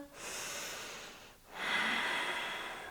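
A close, audible breath in and then out during a yoga balance session, two long airy strokes with a brief pause between, the exhale slightly louder, no voices.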